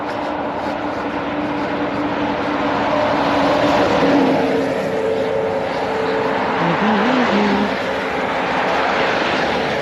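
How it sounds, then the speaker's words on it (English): A car engine builds and surges as the turbo comes on, a loud, sustained drone that swells midway and keeps pulling steadily, with whining tones rising over it near the end. "Turbo kicks in, we're gone."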